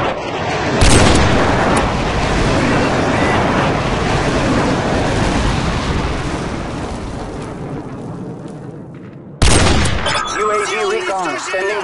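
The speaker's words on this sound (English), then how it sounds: "Friendly airstrike on the way!" Repeated airstrike explosions in the Call of Duty 4 video game, a loud, sustained rumbling barrage of blasts followed by a sharp new burst near the end.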